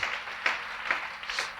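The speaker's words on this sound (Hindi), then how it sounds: "अपने ऊपर गर्व करो और अपने ऊपर तालियां बजाओ" An audience at a motivational speech claps together, a soft, rolling patter of applause with a few louder bursts in quick succession, heard from some distance.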